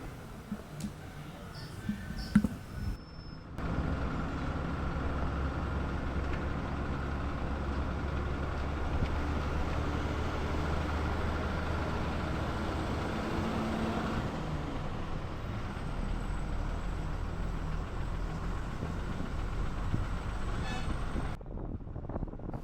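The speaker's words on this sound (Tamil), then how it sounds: "இந்த லாரியை பாருங்கள், முன்னாடி வந்துட்டு எவ்வளோ வந்து இடையூறு கொடுக்குறாங்கன்னு வாகனம் வர்றது தெரியுது" A lorry rumbles along a forest road, its engine a steady heavy drone with road noise that holds for about twenty seconds after a brief quieter start, fairly close and unbroken.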